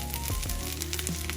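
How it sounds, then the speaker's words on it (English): Rice frying in a pan with vegetables, a close, steady sizzle and crackle with small pops, heard alone without talk. "you can see it frying. You can hear it crackling."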